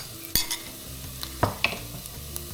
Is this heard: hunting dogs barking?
no